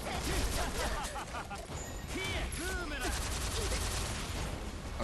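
Gunshot attack in the fighting game DNF Duel, a busy burst of gunfire and impact effects layered over game music and crowd noise, with commentators talking throughout.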